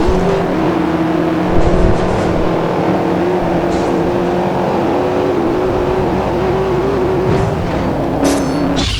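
An Audi engine drones loud and steady at speed, with a constant high-revving tone and no pauses.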